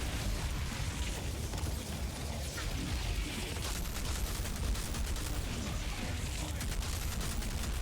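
Gunfire from the video game Outriders rattles in dense, continuous bursts of shots and booms, with no pauses across the stretch.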